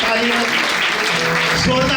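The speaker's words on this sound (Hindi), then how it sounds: "तालियां बेटे अयान के लिए।" Congregation applauding for a young son named Ayan at a Christmas Eve church service, dense clapping over a voice heard alongside it, loud and sustained from start to finish.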